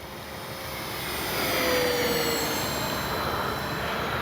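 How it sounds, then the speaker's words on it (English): A Kavan Bristell B23 radio-controlled model bomber makes a flyby, its engine drone swelling to a peak near the middle, holding there, then fading slightly as the plane passes; no voices. "If you didn't know that was an RC plane, you think that was a real thing flying by."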